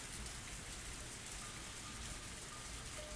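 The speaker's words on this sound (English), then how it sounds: "the cold air and the sound of rain didn't change a bit" Steady rain in the visual novel Higurashi When They Cry falls as an even, dense hiss of drops, constant and fairly soft, with no voices over it.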